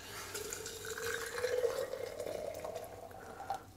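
Just-boiled water poured from a pot into a container for mushroom-cultivation agar, a steady liquid stream with a rising filling tone, close and moderately quiet, without talk.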